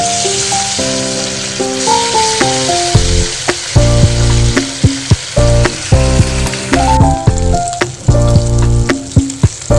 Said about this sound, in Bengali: মাছগুলো ভেজে নিচ্ছি, মাছের পেটের পিস তো, আর ছোট ছোট পিস করেছি যেন ভাজা ভালো হয়।